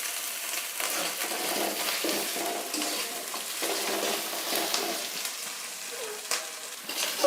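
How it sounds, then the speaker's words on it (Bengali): Spices frying in a little oil in a pan, a steady close sizzle with soft scraping from stirring throughout, with no talking. "তো মশলাগুলো এখন ভালো করে একটু ভেজে নেব।"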